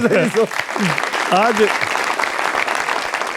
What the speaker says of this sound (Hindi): बहुत खूबसूरत तालियां।